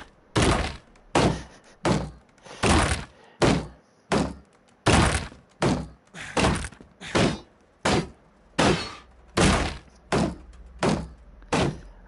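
Objects inside a house being smashed in the Dysmantle video game: a long run of heavy, evenly spaced thumping and cracking impacts, each one loud and close, with brief silences between hits and no talking.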